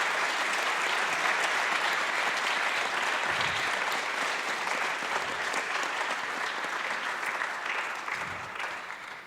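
Sustained audience applause at a Sardinian party gathering, a thick, even roar of clapping that holds steady before tapering off toward the end.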